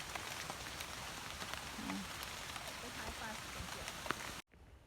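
Steady rain falling in a forest during a mushroom-gathering trip, a dense even patter of drops on leaves and surfaces, close and continuous before cutting off abruptly near the end.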